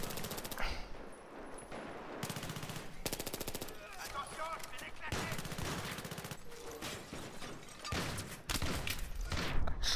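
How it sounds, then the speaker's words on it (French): Automatic rifles rattle off bursts of fire in the shooter game Battlefield 3, with rapid repeated shots in several volleys across the whole stretch, loud and close, and some speech underneath. "Alors j'ai dit on va mettre un petit coup de rafale."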